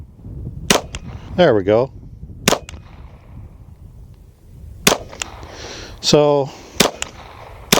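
Pistol with a red dot sight fired outdoors at golf balls; sharp, loud reports come in irregular pairs and singles, some followed by whining, warbling ricochet tones, with a few brief spoken words in between.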